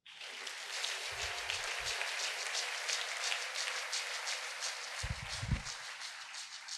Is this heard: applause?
yes